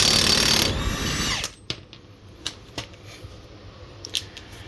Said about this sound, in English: this is a 32 mil axle nut holding the axle into the bearing. So we'll take the axle nut off.